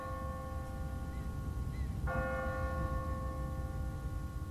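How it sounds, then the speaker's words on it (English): Automatic church bell in The Walking Dead video game, one clear ringing strike with a long humming decay, heard over soft background noise after an earlier faint tone, no talk. "What kind of church bell goes off at 20 past the hour?"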